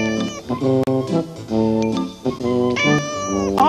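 An animated cat being washed yowls and meows in a string of loud, drawn-out, wavering cries, one after another with brief breaks, over about four seconds and with no talking.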